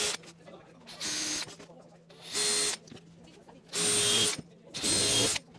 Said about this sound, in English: then we countersink from the other side